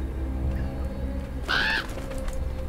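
A single crow caws once, loud and close, cutting through a low, steady ambient drone and background music in the video game Draugen.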